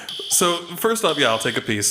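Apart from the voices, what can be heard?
fire alarm going off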